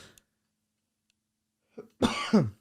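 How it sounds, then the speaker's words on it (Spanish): A single person coughs twice in close succession, sharp and near, after a brief throat sound and a stretch of silence in a quiet indoor room. "Perdón, tenía que toser."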